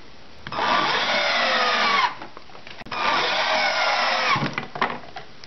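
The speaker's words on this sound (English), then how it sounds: "To attach the brackets to your side pieces, you're going to use 2 screws per bracket into these countersunk holes." Power driver sinking screws through I-Semble slip-on shelf brackets into wooden shelf side pieces, two loud sustained whirring bursts of about one and a half seconds each, separated by a short pause, with no talking.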